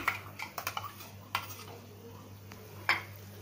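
A spoon clinks and scrapes against a pan while mango pulp, raisins and semolina are stirred together, with a cluster of quick taps early, then a few isolated knocks.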